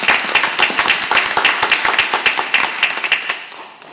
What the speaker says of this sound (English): A round of applause for our coaches, please.